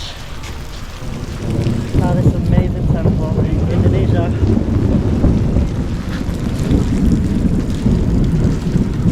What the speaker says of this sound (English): We're like here in the rain